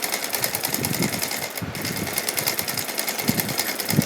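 A sewing machine runs fast and steady, stitching a lace trim seam on a small Radha Krishna doll dress, its rapid needle clatter loud and close throughout.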